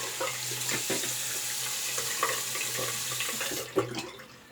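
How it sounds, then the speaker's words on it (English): Water splashes at a bathroom sink during a wet shave, with a steady running tap under irregular splashes and a sharper burst of splashing near the end; no one speaks. "I'm splashing water all over it again"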